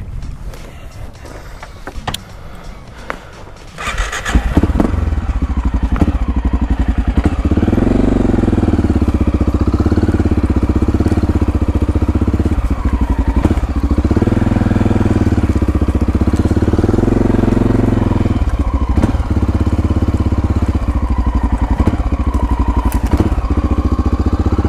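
A Honda XR650L dual sport motorcycle engine starts after a few seconds of clatter at a camping spot, then runs steadily and loudly close by with a deep, even thrum.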